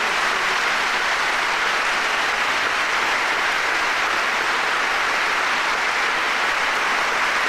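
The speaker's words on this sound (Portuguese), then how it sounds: "Vamos dar um grande aplauso ao Senhor por estas curas físicas." A large congregation applauding the Lord for physical healings at Fátima, with loud, continuous dense clapping from many hands filling the whole stretch evenly, and no voices over it.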